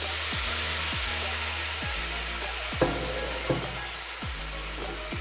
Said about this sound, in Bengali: এর মধ্যে আমি একটু গরম জল দিয়ে দেবো।